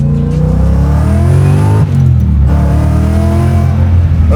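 A 785HP Mustang Fastback engine revs hard during a burnout, a loud sustained roar with rising and falling pitch sweeps and a brief dip midway before climbing again.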